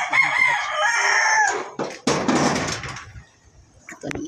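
A rooster crows loudly and close by in a yard, one long drawn-out call followed by shorter clucks and rustling, with a brief knock near the end.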